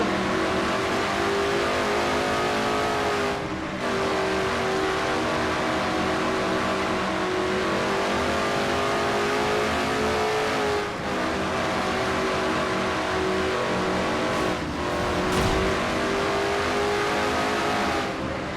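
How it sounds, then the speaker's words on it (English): A video-game race car engine roars steadily at high revs from onboard at Bristol, with brief dips and surges as it shifts and accelerates, loud and continuous throughout. "as you're on board with Quentin Moore in car number 21"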